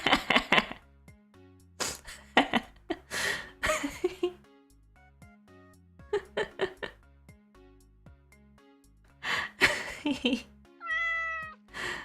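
A cat meow plays as a stream alert sound within a run of short, bright tonal chirps and chimes. Clustered bursts are separated by pauses, ending in a warbling rising-falling tone.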